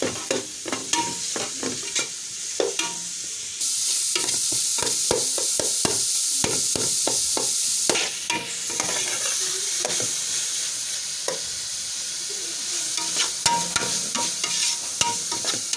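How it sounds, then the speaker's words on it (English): Minced meat frying in a hot pan for a macaroni meat pie, stirred repeatedly: a constant loud sizzle under quick scraping strokes of a utensil, with no talking. "Next you add your meat, your minced meat, and then you stir."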